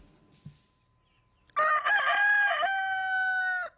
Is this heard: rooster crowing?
yes